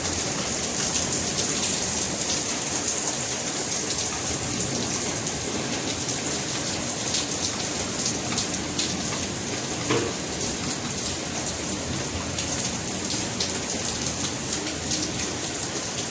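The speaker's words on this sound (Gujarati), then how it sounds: "ધોધમાર વરસાદ પડે રાજકોટમાં અત્યારે અમારી અહીંયા" Heavy monsoon rain pours down in Rajkot, a loud, dense, unbroken hiss of drops drumming on surfaces for the whole stretch, with no voices over it.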